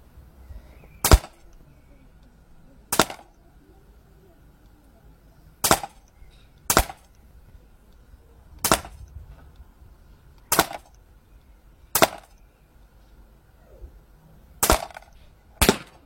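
Artemis CP400 air rifle firing pellets, nine sharp separate shots spaced a second or two apart over a quiet room background, each crack short and crisp.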